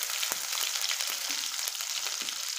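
Green chillies sputtering in hot oil with mustard seeds browning in a pan, a steady dense sizzle with small crackles and pops scattered throughout, close and continuous, no voices.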